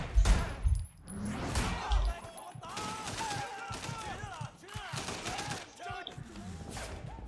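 Bursts of gunfire during a shootout in the open-world game Sleeping Dogs, booming shots and thuds at the start, then scattered fire mixed with a speaking voice.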